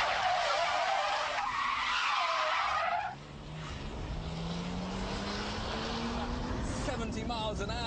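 A car drifts through a 360 spin, tyres screeching loudly at first, then the squeal drops into a rising engine whine as the car comes round, with a voice talking over it.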